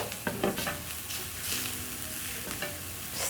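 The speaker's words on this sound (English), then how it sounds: "you're going to saute your garlic" Chopped garlic added to softened onions sizzles steadily in a hot pan, with spatula stirring scrapes and clinks breaking through the continuous frying hiss, close and fairly quiet.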